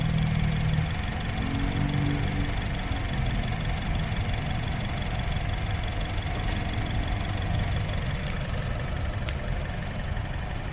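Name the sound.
Honda HR-V 2017 manual car engine idling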